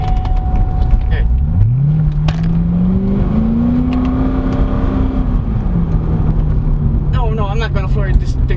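A 2012 Chevrolet Corvette C6 Grand Sport's engine pulls up through the revs under moderate throttle, a steady rising drone heard from inside the car, with someone talking over it.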